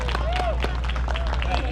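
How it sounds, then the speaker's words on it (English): Applause and crowd noise from an outdoor audience at a dog training demonstration at a K9 fun day event, steady clapping mixed with babble and occasional whistle-like tones throughout. "So how about a nice round of applause for the Alpha Dog Training School is here today."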